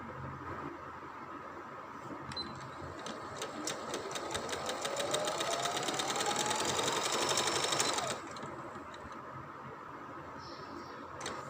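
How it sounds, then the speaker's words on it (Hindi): An electric sewing machine stitches along the folded waistband of a trousers, a fast even whirring rattle that speeds up and runs steadily for several seconds before stopping abruptly, loud and close over quiet room noise. "नेफ़े की फ़ोल्डिंग में भी आपकी सिलाई बिल्कुल किनारे पर ही आनी चाहिए"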